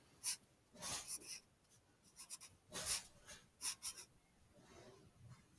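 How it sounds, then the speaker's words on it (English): Pen strokes on a school folder come in short, faint scratchy bursts, close and quiet, with brief pauses between them and no talking. "I'm just going to cross that out, and I'm going to write math."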